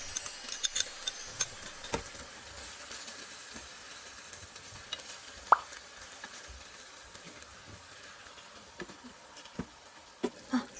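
Ginger pork frying in a pan for Japanese shoga yaki gives off a soft, steady sizzle with a few sharp ticks and pops scattered across it, quiet and close, with no one talking.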